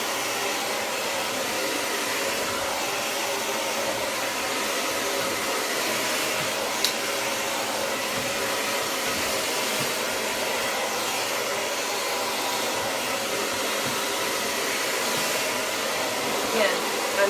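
A hair dryer runs continuously while blow-drying hair, a loud steady close whoosh of airflow that holds nearly unchanged for the whole stretch.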